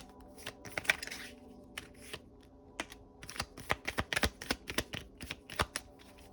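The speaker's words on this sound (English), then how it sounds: "We're gonna pull 3 cards from this deck." Cards shuffled and drawn from a deck, heard as quick papery flicks and taps in irregular bursts, fairly close and quiet with no talking.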